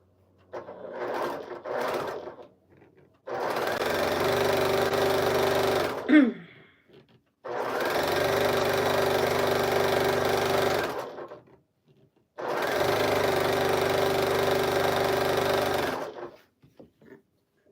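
Electric sewing machine stitching fabric pieces together for a quilt-style project, running in three long steady bursts of rapid whirring with short pauses between, close and loud, with faint handling sounds before the first run.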